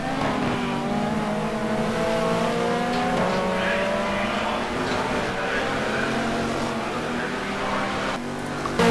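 GT2 race cars at the Barcelona circuit drone continuously with rising and falling engine pitch, one BMW leaving the pit lane as others pass, with a steady dense roar throughout.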